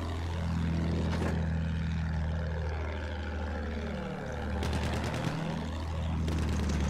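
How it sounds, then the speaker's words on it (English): Propeller aircraft passing overhead in a war video game, a droning engine roar with pitch sweeping down as planes fly past, loud and close, layered over a constant low rumble. "Plane above us, plane above us"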